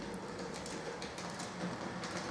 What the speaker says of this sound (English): it's a goods train, it won't stop at this station. It passed straight through